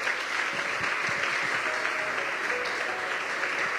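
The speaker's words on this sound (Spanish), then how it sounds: "Dele palmas al Señor por eso." A church congregation claps for the Lord in dense, sustained applause that fills the room evenly from start to finish, with soft low thumps beneath it.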